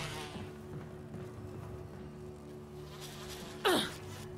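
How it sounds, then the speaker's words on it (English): Buzzing bees in the video game Resident Evil, a steady insect drone with a low hum running through the room, broken near the end by a sharp, louder sweeping hit. "Bees."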